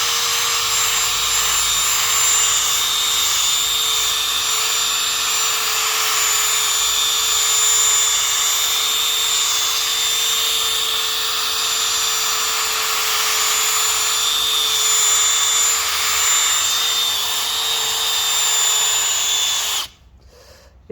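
A cordless drill fitted with a backing pad spins steadily for about twenty seconds, buffing polishing compound into car paint to remove a bird-dropping mark, a continuous close whine that cuts off abruptly at the end.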